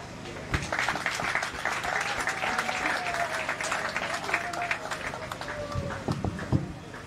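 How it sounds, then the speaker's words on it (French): A crowd applauds steadily at an International Women's Day event, a dense patter of many hands clapping at a moderate distance, with a faint voice beneath. "Je voudrais vous inviter tous et toutes à applaudir pour féliciter toutes les femmes"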